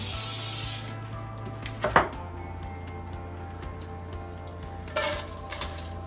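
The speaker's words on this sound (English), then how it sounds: "I don't use too much of the pan baking spray anymore. I just want to lightly coat the bottom." A brief hiss of baking spray from a can opens the clip, lightly coating the bottom of a cheesecake pan, followed by quiet scraping and a few clinks of the pan.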